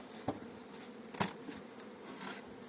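Honeybees in a beehive opened on the last day of winter give a low, soft, steady hum close by, with a few sharp clicks and knocks from handling the frames.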